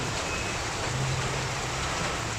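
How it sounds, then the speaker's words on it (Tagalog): Steady, dense hiss of heavy rain pouring down after a typhoon has passed, without a break, loud and continuous. "Wala na ang bagyo pero malakas ang ulan."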